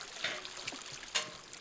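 Water trickling from a tap, faint irregular splashing and dribbling with a couple of brief louder spatters.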